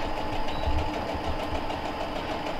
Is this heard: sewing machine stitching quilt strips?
yes